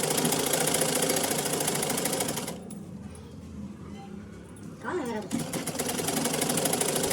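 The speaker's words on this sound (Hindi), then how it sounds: "ऊपर वाले कपड़े को भी फोम पर फोल्ड करके स्टिच कर देना है" A sewing machine runs in steady stitching bursts as cloth is folded and sewn onto foam for a salwar hem, loud and continuous at the start and end with a quieter pause in the middle.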